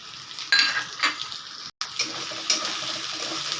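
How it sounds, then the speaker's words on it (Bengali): Prawns with chili powder, turmeric and salt are stirred and sautéed in a pan, giving a continuous hiss and sizzle with occasional scraping stirs and a brief dropout near the middle. "আবারও আমি একটু কষিয়ে নেব"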